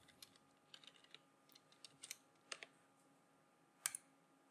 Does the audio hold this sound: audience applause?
no